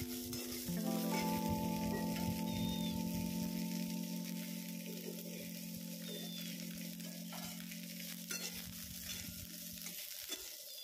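Chopped small onion frying in half a spoon of oil, with a steady close sizzle and stirring scrapes running throughout, alongside a low sustained hum, while bitter gourd masala is being cooked.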